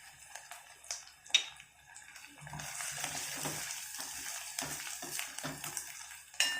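Ginger-garlic paste frying with onion in a pan for chicken fry: a few light clicks and taps, then a close, steady sizzle that rises and carries on with small stirring knocks.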